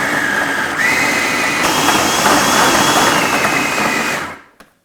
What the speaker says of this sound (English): Now I'll put on the lid and mix this on high.